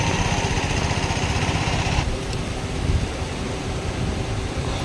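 A 7.5 HP diesel power weeder runs on a farm with a loud, steady, rough engine drone that fills the whole stretch and slightly changes tone partway through.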